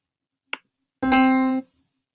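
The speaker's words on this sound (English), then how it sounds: "make the beautiful sounds of a piano instead of the awesome sounds of a drum" A single short piano note played by a Scratch program rings clearly for about half a second, preceded by a brief sharp click, with silence around it.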